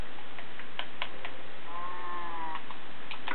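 Sheep bleating in the Minecraft video game, a wavering harmonic bleat in the middle among light ticking game sounds, fairly quiet with no talk.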